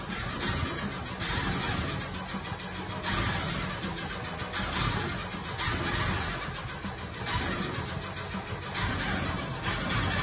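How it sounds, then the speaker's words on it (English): A restored Porsche 914 engine starting for the first time, settling into a rough, steady idle with small rises and dips in revs, close and continuous for about ten seconds. "The car managed to start and it wasn't running that bad."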